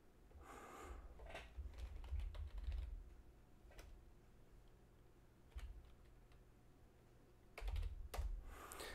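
Name being typed on a computer keyboard: quiet, close bursts of quick key clicks in uneven clusters, with a heavier thump at the end and low room hum underneath.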